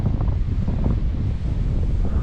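Strong gusty wind roars steadily across the microphone on an open RC plane flying field, a dense low rumble filling the whole span with no voices.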